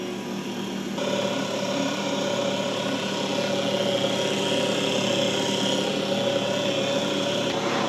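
A stand mixer kneads NY style pizza dough with a steady, loud motor whine and low grinding hum that rises slightly after the first second and then holds constant throughout, with no talking.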